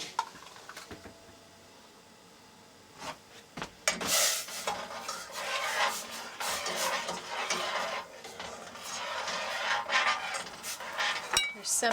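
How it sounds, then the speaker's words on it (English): Dried onion, garlic and chicken bouillon seasoning mix is tipped from packets into a camp cooking pot, giving a steady dry rustling and scraping that starts after a few quiet seconds and continues close and fairly loud. "And I'm just going to dump those in and bring it to a boil."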